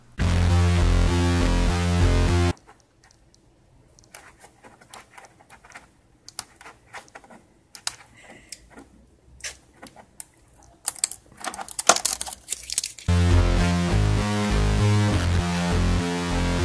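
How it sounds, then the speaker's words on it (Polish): Rapid, dense clicking of keys on a Corsair K63 mechanical keyboard, loud and close, typed in irregular bursts between stretches of music at the start and end. "dostaliśmy taką oto klawiaturę do testów. Jest to Corsair K63"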